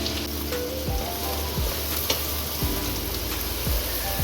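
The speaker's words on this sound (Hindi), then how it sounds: "और साथ ही इसमें एक बड़ा प्याज स्लाइस में इसकी कटिंग की हुई वो शामिल कर दें और इसे फ्राई कर लें।" Sliced onion fries in hot oil with a steady, close sizzle and crackle, broken by a few soft stirring scrapes of a spoon in the pan.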